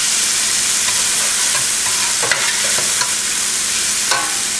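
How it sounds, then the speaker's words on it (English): Onions and garlic sweating in a hot pan, a loud continuous sizzle with occasional brief scrapes and pops from stirring, no voices. "Now we're going to cook this for a couple of minutes, just sweat them up, get the onions soft."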